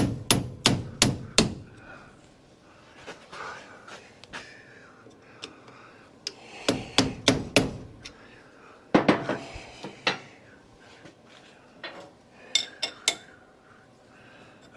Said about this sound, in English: So I had to go get a hammer.